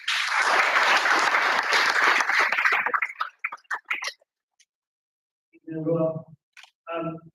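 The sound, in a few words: audience applause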